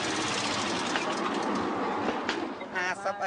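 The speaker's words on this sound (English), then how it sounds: "His train is little more than a bamboo slab on wheels." Bamboo norry, a bamboo slab on wheels running on rails in Battambang, Cambodia, rumbling in a steady broadband clatter. Pigeon coos and a voice come through near the end.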